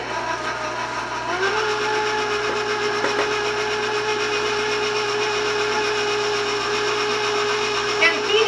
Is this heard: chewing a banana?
no